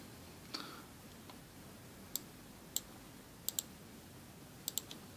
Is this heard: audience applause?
no